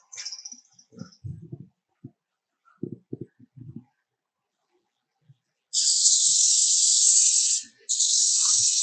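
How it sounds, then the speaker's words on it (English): Sandpaper rasps against a hand-carved wooden mortar with some punky, soft spots in the wood, starting after a few scattered knocks and handling sounds: a steady, loud, close scratching stroke that runs for about two seconds, breaks briefly, then resumes. "so I'm just going to grab my sandpaper here"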